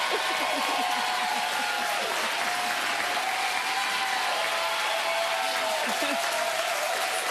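Steady, dense applause from a large television studio audience fills the whole stretch, loud and continuous without pause, with faint voices and cheers mixed underneath.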